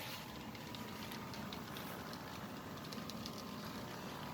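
A steady low rumble and hum of HO scale model intermodal trains running on a layout, with faint clicking over the track, continuous and fairly quiet throughout.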